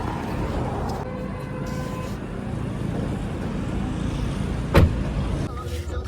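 A car on a busy city road in Nashik, heard as a steady engine and traffic rumble throughout, with a brief louder thump near the end.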